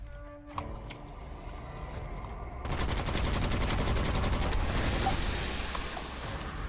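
Midas rifle firing in the Witchfire video game, a dense burst of rapid gunfire that kicks in partway through and runs steadily to the end, loud and close.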